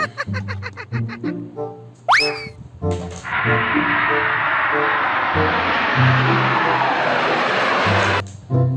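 Toy airplane engine sound: a sustained, loud whooshing roar that slowly rises in pitch for about five seconds. It follows a short electronic jingle and a rising boing effect.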